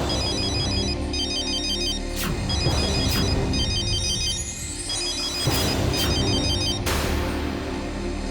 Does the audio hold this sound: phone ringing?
yes